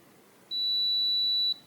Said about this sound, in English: once you hear that long beep, the reset is complete